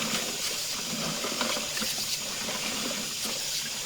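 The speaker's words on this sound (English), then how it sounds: "Okay, we got our garden hose running." Water from a garden hose runs through a clay-to-plastic sewer pipe, a steady hollow trickling and splashing heard up close with faint gurgles, no voices.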